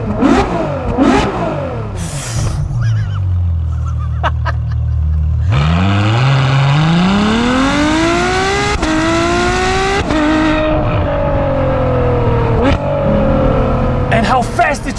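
Ferrari F12 Berlinetta V12 engine revving hard and accelerating, its loud pitch climbing steadily through rapid gear shifts, close and continuous with tire noise on a winding road.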